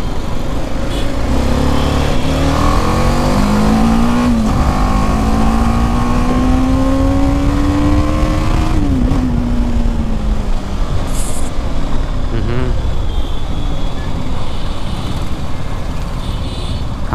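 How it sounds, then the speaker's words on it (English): A motorcycle engine rises steadily in pitch as the throttle is opened, then drops back and revs briefly again, loud and close, with constant wind-like rumble throughout. "Now let me try to check the initial throttle response."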